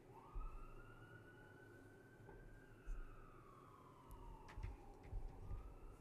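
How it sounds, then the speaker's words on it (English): A siren wails at a moderate distance, its pitch slowly rising and falling in one long sweep over steady low background rumble, with a few faint bumps and knocks and no talking. "There's a siren."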